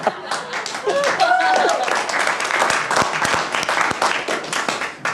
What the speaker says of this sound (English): An applause break.